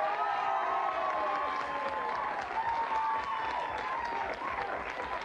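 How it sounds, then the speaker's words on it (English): Studio audience on the Blockbusters game show applauding, a full, steady wash of clapping that holds at even loudness throughout. "A round of applause again,"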